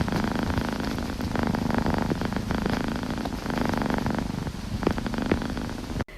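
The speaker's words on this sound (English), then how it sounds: "Molly, this little Pikachu fireball of endless energy and a purr to match a motorboat" A small, energetic cat purrs loudly and steadily up close, a continuous rumbling motor-like drone with no other sounds or voices.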